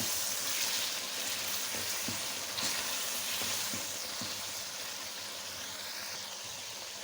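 Chicken karahi masala sizzles steadily in the pan, with a dense hiss throughout and a few soft thuds as yogurt goes in, close and fairly loud, no talk.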